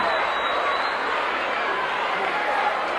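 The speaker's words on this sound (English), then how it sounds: "We have a tremendous crowd here." Large wrestling arena crowd roaring in a steady dense wash of cheering and chatter, loud and continuous throughout.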